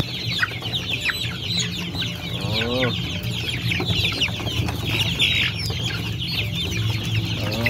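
A flock of hungry free-range village chickens clucks and squawks continuously at close range at night, busy overlapping calls with a brief exclamation from a person.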